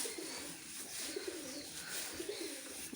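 Pigeons cooing close by in a rural homestead, a steady low rolling coo repeating through the clip with no talk over it.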